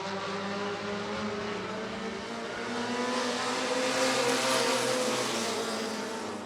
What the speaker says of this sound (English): The Midwest Compact Dash Touring Cars coming back to you.